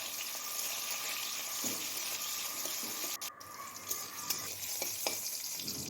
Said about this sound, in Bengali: ওই একই তেলে উচ্ছেটাও ভেজে নেব লাল লাল করে।